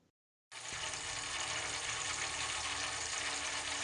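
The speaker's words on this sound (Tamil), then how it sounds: "ஆயில் கூட தண்ணி சேர்ந்தால் எப்படி சொடச்சொடன்னு சவுண்டு கேட்கும், அதே மாதிரி கேட்கும் பாருங்கள்" Coconut oil with trapped moisture heats in a kadai, bursting after a brief silence into a loud, dense, continuous crackle and sizzle that holds steady.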